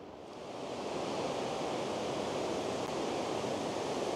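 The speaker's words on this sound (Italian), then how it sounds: "Guardate il fiume, che bello" Steady broadband rush of a mountain river flowing near waterfalls in a snowy alpine setting, a constant close roar that swells slightly in the first half second and then holds even, with no voices.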